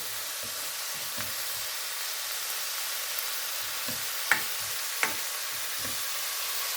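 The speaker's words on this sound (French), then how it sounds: "On met les oignons. On fait bien cuire." Onions frying in seafood juice for a seafood risotto, a steady soft sizzle with a few brief stirring clicks and scrapes near the end.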